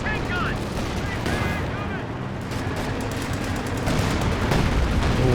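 Dense battlefield gunfire from the Company of Heroes 2 video game in a 2v2 match, continuous rattling shots and bursts layered over a steady roar of combat, with a voice commenting over it.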